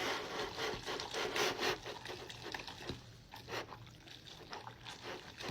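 Samyang spicy noodles being mixed with sesame, wet sticky slurping and rubbing of noodles against the bowl with a few soft clicks, close and continuous, no voices.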